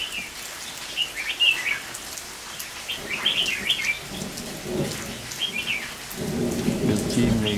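Steady rain pours down with rumbling thunder growing louder toward the end, and a few birds chirp in the background.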